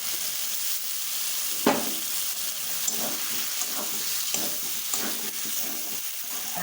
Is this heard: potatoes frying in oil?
yes